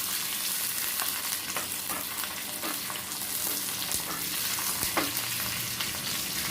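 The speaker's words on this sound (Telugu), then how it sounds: "పెరుగు ఇలా తాలింపు పెట్టుకోవాలండి" Whole spices tempering in hot oil for yogurt vadas, a steady loud sizzle and crackle running throughout with a few sharper pops, no voices.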